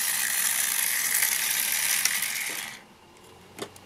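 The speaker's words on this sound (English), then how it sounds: "So this gear right here is turning this." A small gear turns a notched ramp mechanism inside a DingBot toy, giving a close, steady ratcheting whir for nearly three seconds that stops abruptly, followed by a faint click or two.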